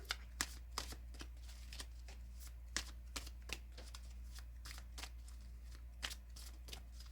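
Tarot cards are shuffled and drawn by hand in quiet, close, irregular flicks and soft slaps, with sharper card snaps scattered throughout and no talking.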